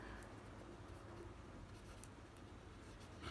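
A name is handwritten during an electrical lesson, giving a faint, continuous scratchy scribble with small tapping ticks over a soft background hiss, close and quiet.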